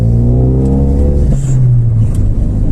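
A car engine accelerating loudly from inside the cabin on its first drive, a steady rising drone that climbs in pitch and then drops as the gear shifts, continuous and close with no talk.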